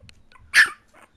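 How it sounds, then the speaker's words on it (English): Three-week-old English Bulldog puppies, one giving a single short, sharp yip close by amid faint soft whimpers and rustling. "Here's the puppies at 3 weeks."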